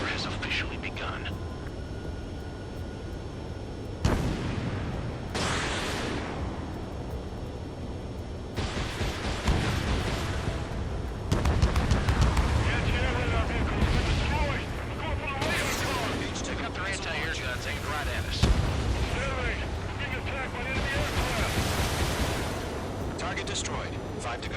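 Anti-aircraft fire and explosions in the Ace Combat 7 video game: dense, loud bursts of gunfire and booming blasts come in waves over a continuous roar, with sharp louder hits every few seconds.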